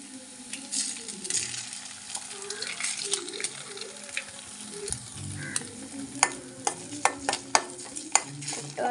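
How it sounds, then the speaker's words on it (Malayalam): Cracked eggs fry in a pan with onion and green chillies in coconut oil, a close, continuous sizzle broken by stirring scrapes and sharp spoon clicks against the pan toward the end. "അടുത്തതായി നമുക്ക് മുട്ട പൊട്ടിച്ചൊഴിച്ച് കൊടുക്കാം."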